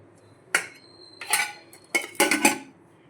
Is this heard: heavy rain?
no